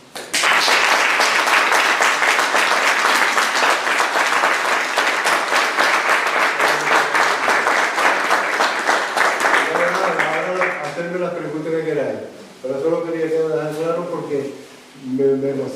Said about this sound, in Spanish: Un aplauso a todas esas generaciones ya que pasaron